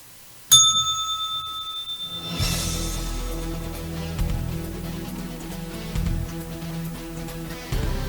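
A single bright bell strike rings out sharply and lingers, then gives way to steady background music for the rest of the moment; no one speaks.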